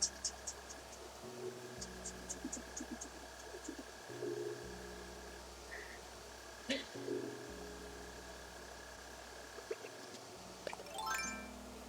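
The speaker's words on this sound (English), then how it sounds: "I hear a mole cricket." A mole cricket in Animal Crossing: New Horizons gives a low, steady trilling chirp under a looping game melody, with scattered bird calls and a person talking over it.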